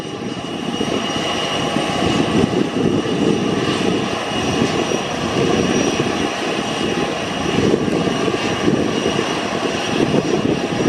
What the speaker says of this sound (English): inbound with a little private jet.